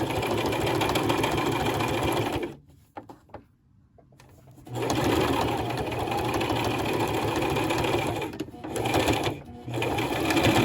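A sewing machine back stitching a face mask with adjustable ear loops, a steady close mechanical whir that stops briefly twice and starts again.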